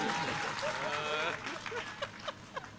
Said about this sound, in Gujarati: આ તાળી પાડો, એક હારે પાડો